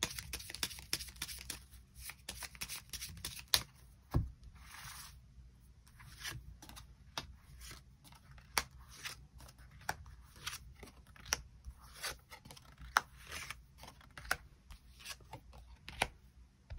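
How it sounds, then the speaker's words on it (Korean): Tarot cards are shuffled and drawn by hand, sharp close snaps and flicks recurring at irregular intervals over quiet room tone. "추가 카드 뽑아보도록 하겠습니다"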